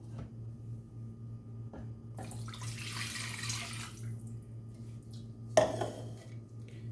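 Water poured into a pot on the stove while making choux dough for Paris-Brest rings, a soft rushing splash lasting a couple of seconds over a steady background hum, followed by a sharp clink of kitchenware.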